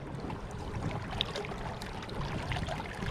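Water rushing and swishing past the hull of a small tender dinghy moving at a couple of knots under a near-silent Torqeedo electric outboard, a steady close wash with faint splashes and no engine hum.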